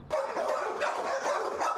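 Rescued dogs at a humane rescue shelter bark and yip in a quick, overlapping string of sharp, fairly close calls, with a whimpering edge and no talk over them.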